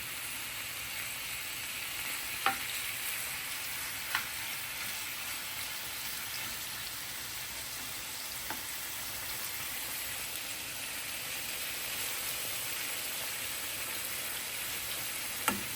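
Shrimp shallow-fry in a pan for a shrimp roast, giving an even, continuous sizzle with a few faint pops and ticks spread across the clip and no talking.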